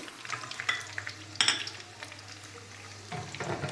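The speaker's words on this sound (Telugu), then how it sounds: "ఇప్పుడు ఇంకా వేగిపోయినాయి." Chicken 65 sizzles steadily in hot oil while being stirred, with a few sharp scraping strokes over a constant low hum. The sound is close, and no one speaks.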